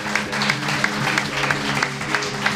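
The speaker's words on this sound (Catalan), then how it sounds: "Un aplaudiment per Iñaki Sola, sisplau." Studio audience applause on a Catalan talk podcast, a steady, fairly close burst of many hands clapping that keeps up evenly for a couple of seconds with no talking over it.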